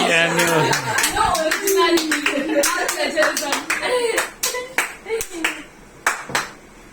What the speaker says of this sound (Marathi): काय फक्त टाळ्या मारायच्या.